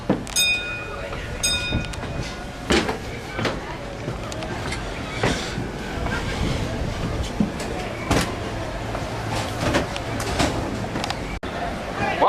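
Disneyland Railroad train rolling steadily along its track, a continuous rumbling run with occasional clanks and a brief whistle-like tone near the start, with people talking throughout.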